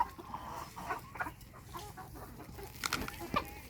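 Farm chickens cluck in short, scattered bursts close by, with a few sharper squawks near the end over a steady outdoor background.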